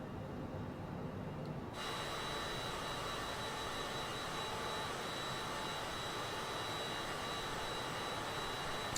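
Simulated Cessna Citation CJ4 jet cruising in Microsoft Flight Simulator, a steady, dense engine roar with a whining high tone, unbroken and constant throughout.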